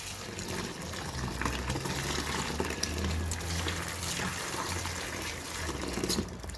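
Za'atar leaves being washed and soaked in water to clear sand and dirt, with continuous close sloshing and trickling as the leaves are swished and rubbed.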